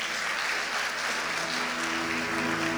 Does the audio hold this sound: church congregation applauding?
yes